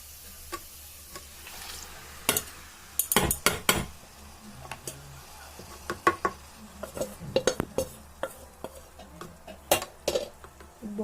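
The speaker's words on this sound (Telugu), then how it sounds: "బాయిల్ చేసిన పాస్తా అండ్ నూడిల్స్ ఇందులో వేసేసిన తర్వాత అన్నీ బాగా అన్నిటికి వచ్చేలాగా కలుపుకోవాలి" Boiled pasta and noodles tossed into a pan and stirred, with sharp intermittent metal clanks and scrapes of a utensil against the pan over a faint sizzle, close and without talk.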